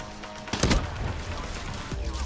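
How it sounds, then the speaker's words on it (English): Gunfire from a weapon in the multiplayer video game Black Ops 3, a few sharp shots clustered near the start over a steady game background, then a fainter shot later. "Now I can freaking shoot."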